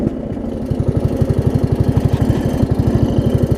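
Up close, a Craftsman riding mower's small engine idles with a loud, regular low putter, its pulses thumping along evenly and continuously with no voices.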